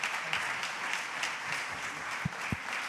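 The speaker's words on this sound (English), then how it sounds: "Let's give him a big round of applause." Applause from an audience at a corporate event, following an introduction of a business executive, a fairly quiet, steady patter of clapping with a couple of soft low thumps near the end.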